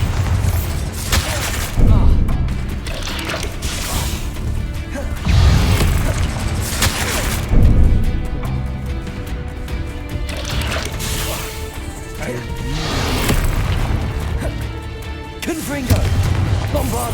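Repeated booming blasts of Bombarda spells in Hogwarts Legacy, loud bursts landing every few seconds over a busy magical battle with shouted spell incantations throughout.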